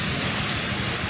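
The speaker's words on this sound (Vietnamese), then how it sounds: "Mưa trời ơi mưa mang bị áp thấp nhiệt đới luôn." Heavy rain from a tropical depression pours steadily onto a street, a dense, loud, continuous hiss with no talking.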